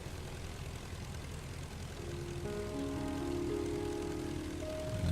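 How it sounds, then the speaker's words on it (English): A WWI aircraft engine from the flight game Rise of Flight starts up at a distance, a faint propeller drone that builds into steady humming tones and holds, with no talking. "First man has started his engine."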